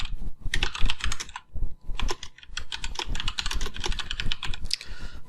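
Computer keyboard keys are pressed in quick, dense bursts of close, crisp clicks, with a few short pauses between runs of typing.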